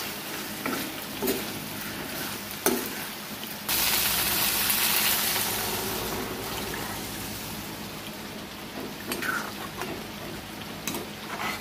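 Four spiced fish pieces fry in a pan at home, giving a steady close sizzle with scattered pops and clicks that swells noticeably louder partway through and stays dense, with no talking.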